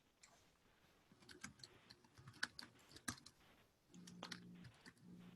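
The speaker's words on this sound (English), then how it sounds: "Now you get to see all my typing skills" Keystrokes on a computer keyboard during a meeting, irregular bursts of clicks with brief pauses and a few sharper taps, near and fairly quiet over low room hum.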